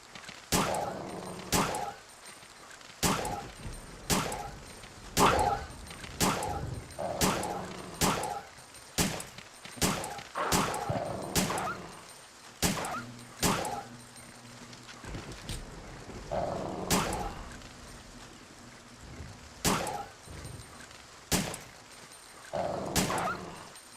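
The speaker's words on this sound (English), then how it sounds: "Dog moment." Dogs barking in the video game Resident Evil 3: Nemesis, a long run of sharp, loud barks in irregular bursts, some mixed with gunfire-like cracks, with brief quieter gaps between.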